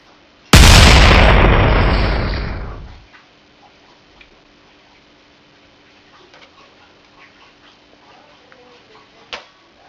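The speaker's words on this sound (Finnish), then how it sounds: "Flashbang." A flashbang grenade goes off in a single loud, sharp blast that rings out and decays over roughly two and a half seconds, leaving quiet room tone and a faint click afterward.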